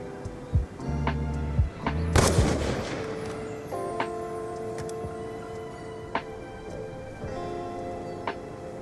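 Gunfire from Black Ops 2 Search and Destroy trickshotting, with one loud, sharp shot near the start and a few lighter cracks and clicks scattered afterward over steady game background noise and music tones.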